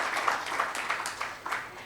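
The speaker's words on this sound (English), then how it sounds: "Big round of applause for both of you" Audience applause at the TIM 2022 Global Conference, a light patter of clapping with soft surges that fades, fairly quiet and steady, with no voices over it.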